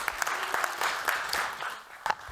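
Brisk audience applause at a panel event for a production crew, continuous and fairly close, with individual claps standing out through the clatter.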